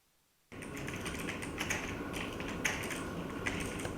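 Rapid computer keyboard typing and clicking during competitive esports gaming, a dense, steady clatter of keys after a quiet start, fairly close and continuous.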